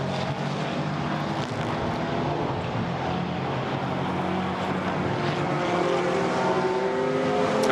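The number 11 McLaren GT4 race car in qualifying at Misano, a loud steady engine roar with rising pitch as it passes, dense and continuous throughout without speech.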